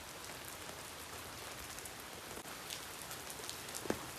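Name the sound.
sudden heavy rain falling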